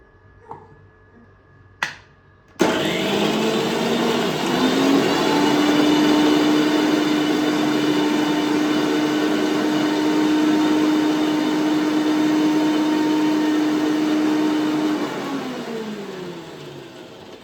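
A kitchen mixer grinder whirs steadily for about twelve seconds as it grinds ginger, garlic and green chilli into paste, a loud droning hum that starts abruptly after a couple of small clicks and then winds down.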